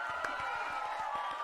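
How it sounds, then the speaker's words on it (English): A brief canned applause and cheering effect played from a button in an iOS music app, heard over a sustained tone with quick, regular pulses. "Do I have the round of applause button?"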